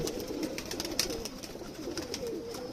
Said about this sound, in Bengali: এই হচ্ছে কবুতরটা, পুশ করো।